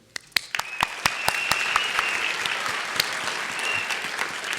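Applause at a winter commencement ceremony starts with a few sharp, separate claps and quickly swells into broad, sustained clapping from a large audience, with loud individual claps standing out.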